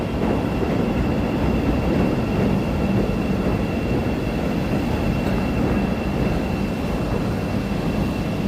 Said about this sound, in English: here's a nice shot of the green line coming by.